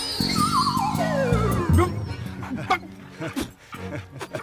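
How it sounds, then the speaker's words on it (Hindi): A dog in a comic film scene yips and whines in short, high, sliding cries, loud and close, over a busy background. "कुत्ता क्यों भौंक रहा है?"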